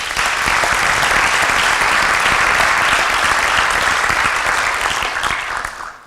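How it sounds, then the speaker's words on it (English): An audience at a Des Moines economic development talk gives sponsors a sustained round of applause, loud even clapping that holds steady, then cuts off abruptly. "Let's give all of our sponsors a big round of applause"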